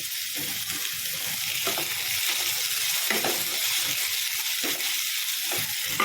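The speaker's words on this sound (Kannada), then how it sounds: "ಹಾಕ್ಕೊಂಡು ಚೆನ್ನಾಗಿ ಫ್ರೈ ಮಾಡಬೇಕು" Cumin and tamarind fry in a pan for a Uttar Karnataka style brinjal curry, giving a steady close sizzle with light stirring scrapes and no talk.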